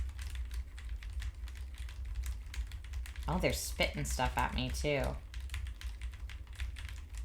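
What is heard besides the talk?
typing on a computer keyboard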